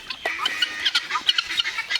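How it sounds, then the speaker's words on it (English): Mixed poultry at a farm water hole, guinea fowl, ducks and chickens, give a busy stream of clucks, chirps and squawks in quick overlapping bursts, fairly close. "Look at all that mixed multitude. Guineas, ducks, chickens."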